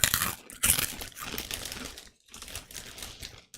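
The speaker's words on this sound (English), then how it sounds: "Can you hear that crunch?" Crunching while eating a snack up close for ASMR, with a few loud crisp bites and crackly chewing bursts separated by short pauses.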